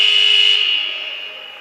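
A loud, steady electronic half-time buzzer sounds at a women's futsal match, a continuous harsh tone holding for over a second before slowly fading.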